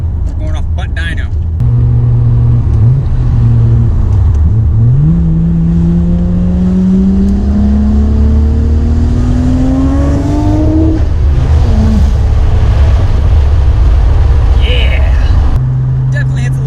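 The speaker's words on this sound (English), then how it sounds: "I still cannot get over the sound of this car though." A Nissan Skyline GT-R with its boost turned up accelerates hard, the engine note climbing steadily in pitch through a long pull before dropping off at a shift, loud and close from inside the car.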